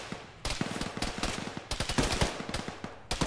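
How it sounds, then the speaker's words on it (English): Gunfire from a tower in the military game Arma crackles in rapid automatic bursts, dense rattling volleys broken by short pauses and repeated across the stretch, fairly close and loud with no voices. "That's basically the tower shooting at us."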